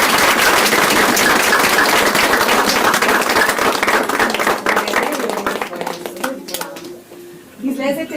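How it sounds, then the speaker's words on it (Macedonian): Audience applause at the end of a children's New Year play about Baba Zima, a dense, steady clapping that fills most of the clip and then thins out toward the end. "Ве молам аплауз."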